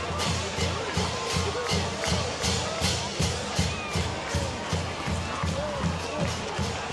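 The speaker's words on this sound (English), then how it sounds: "There's not a lot of sitting and only a lot of clapping hands down there here in front of us with 3 minutes to go." Football crowd at a Mount Pleasant vs. East Grand Rapids game late in the fourth quarter, fans clapping steadily in rhythm with a dense, continuous roar of cheering and babble throughout.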